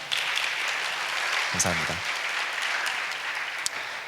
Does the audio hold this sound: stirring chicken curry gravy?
no